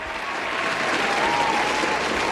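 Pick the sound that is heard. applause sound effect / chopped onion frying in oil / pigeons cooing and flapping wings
applause sound effect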